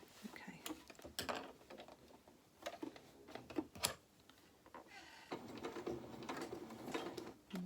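A sewing machine stitches a small reversible winter cape trimmed with pom-poms: quiet bursts of rapid mechanical stitching, close and faint, separated by short pauses and handling clicks.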